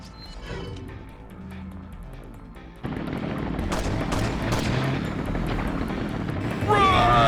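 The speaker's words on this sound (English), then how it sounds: "That's the chopper." Helicopter rotor chatter in the video game Resident Evil 4: Separate Ways (2005, PS2), a loud steady whirring that rises abruptly partway through, mixed with rapid gunfire bursts and game effects, while a player talks over it.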